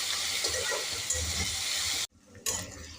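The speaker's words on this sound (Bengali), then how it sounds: "এবার সবজিগুলো ভেজে নেব" Carrot, onion, green chilli and garlic fry in oil in a wok, giving a loud, steady hissing sizzle that cuts out briefly near the end, then resumes.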